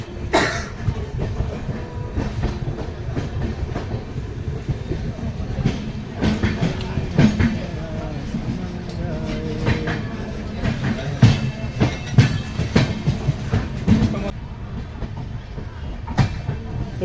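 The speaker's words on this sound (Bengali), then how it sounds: "শিয়ালদা স্টেশনের 12 নম্বর প্ল্যাটফর্ম থেকে ট্রেন বেরিয়ে যাচ্ছে" Darjeeling Mail, train 12343, pulling out of platform 12 at Sealdah station at night, wheels clattering in irregular clicks and thumps over track changes, with voices and station bustle underneath.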